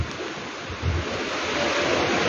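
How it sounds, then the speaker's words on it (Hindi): Strong wind blows steadily through Jalandhar on a cloudy morning, a dense roaring rush with no voices, swelling slightly louder toward the end. "तेज़ हवा चल रही हैं"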